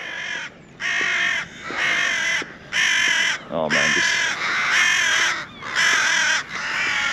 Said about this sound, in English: again with the crows, they don't like me very much